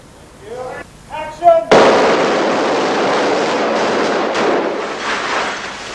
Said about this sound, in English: Gunfire during the rehearsal.